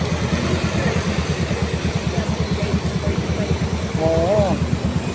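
A rented scooter engine idles close by with a rapid, even putter throughout, and a voice speaks briefly over it near the end.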